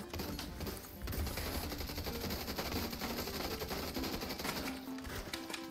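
Loud, close gunfire from The Division 2 video game: sustained automatic bursts and rapid overlapping shots fill nearly the whole stretch, briefly easing near the start and again toward the end.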